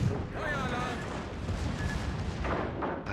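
Warship main guns firing in a naval combat video game, a continuous rumble of heavy artillery booms with a fresh blast near the end, loud and steady throughout.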